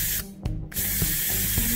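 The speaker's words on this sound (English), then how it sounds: "you'll be able to hear the oxygen come out" A Boost Oxygen spray can releases loud bursts of hissing oxygen, briefly cutting off and resuming, with a few soft taps underneath.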